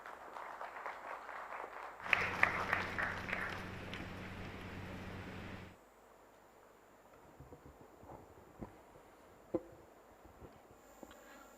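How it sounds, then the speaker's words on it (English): A round of applause welcoming a minister at an official Odisha mining and metallurgy agreement signing: a burst of crowd clapping lasting a few seconds, moderately loud, then a hushed hall with a few scattered knocks. "Let's welcome him with a round of applause."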